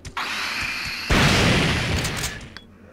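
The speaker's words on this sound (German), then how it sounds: "das war mal ein Shotgun-Schuss" A loud shotgun blast in Resident Evil 3 booms midway, a broad blast that decays into noisy rumble over a continuous electronic background.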